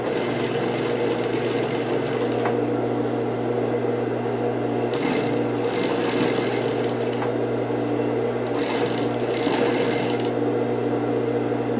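A sewing machine stitches a fabric appliqué with a steady, continuous motor hum close by. Higher-pitched bursts of fast stitching come and go, with short pauses while the cloth is repositioned.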